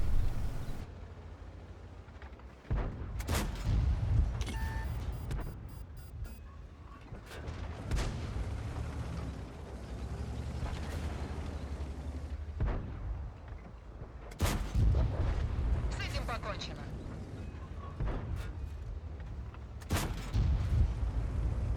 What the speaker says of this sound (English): So right there, arty strikes